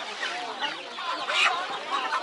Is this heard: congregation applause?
no